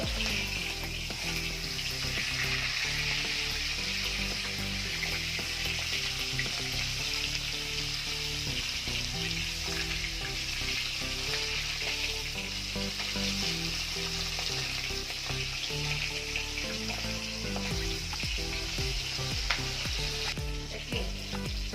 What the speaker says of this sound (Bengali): মাছগুলো এক পিঠ ভাজা হয়ে গেছে, উল্টে দেব।